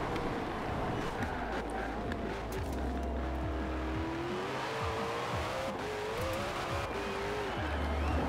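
A Koenigsegg hypercar driven at full pace through a lap in Forza Horizon 4, its engine droning and rising through the gears with tire noise, with a person talking over it throughout.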